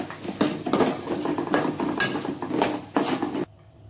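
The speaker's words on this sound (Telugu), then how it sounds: "ఈ విధంగా టమాటోని ఫ్రై చేసుకొని ఆ తర్వాత చోలేని కలుపుకోవాలి" A spoon scrapes and clanks against a pan while stirring a tomato and chole curry. The metallic knocks and scraping repeat close up in a steady rhythm for about three and a half seconds, then stop abruptly.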